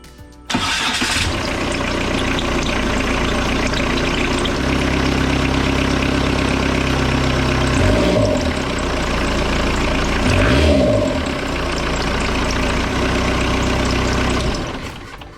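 A Kubota V2403 diesel fitted in a 2006 Jeep TJ Wrangler starts and then idles at about 950 RPM with a steady, loud, close clatter and rumble, rising briefly twice before it settles and cuts off.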